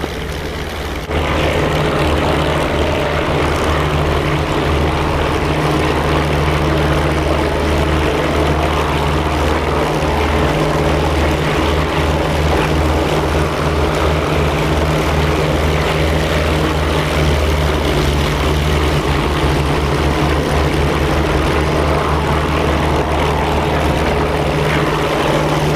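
A WWII propeller aircraft engine in flight in the combat flight simulator DCS, a loud, constant droning roar with a steady low throb that holds unbroken throughout, with no voices.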